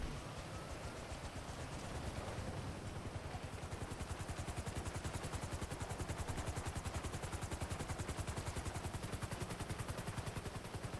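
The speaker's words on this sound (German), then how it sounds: "Helikopter." Helicopter in GTA 5 Online, a fast rhythmic rotor chop that builds in the first couple of seconds and then holds steady and loud, with no talking over it.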